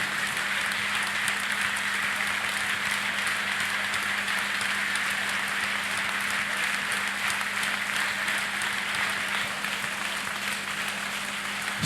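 A congregation claps steadily together during a night prayer service, a dense, sustained wash of applause with no breaks, close and fairly loud, with a faint low hum beneath.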